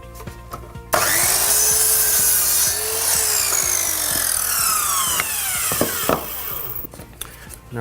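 A hand saw cuts through pallet wood in steady, close strokes, each push and pull giving a rasping, rubbing tone that runs for several seconds before the cut ends with a few knocks.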